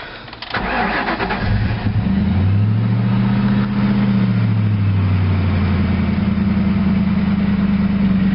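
A Chevy Nova muscle car engine cranks over and catches, then settles into a loud, rumbling idle close by, with no talk over it.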